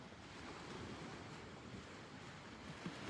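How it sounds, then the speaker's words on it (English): Ocean waves and surf wash in a steady, broad rush with a wind-like hiss, fairly quiet and continuous without any voices. "Feel how the sound of the ocean can connect you to the water of your body."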